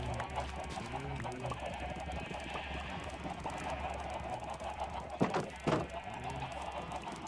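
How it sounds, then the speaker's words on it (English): A crowd of chickens clucking in the Minecraft video game, many overlapping soft clucks under a constant low background hum, with a couple of louder bursts near the end. "A lot of chickens? Yes, it is."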